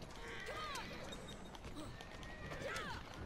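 A horse in the video game Assassin's Creed Syndicate gallops and neighs twice, each whinny a bright, falling cry over soft hoofbeats and steady background game noise, with faint voices underneath.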